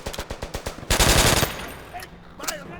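Rapid-fire gunfire in Call of Duty: World at War, loud bursts of quick shots followed by a dense stretch of overlapping fire and a few scattered later shots.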